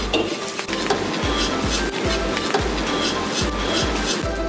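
Scallion and ginger hit hot oil and sauce in a wok for braised chicken, a loud dense sizzle with rhythmic metallic scraping and clanks of the ladle against the wok, up close.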